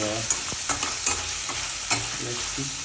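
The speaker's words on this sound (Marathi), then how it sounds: "कांदा परततो." Onions sauté in a pan for egg bhurji with a close, steady sizzle broken by several sharp scraping stir strokes and clinks of a spatula, with no talking.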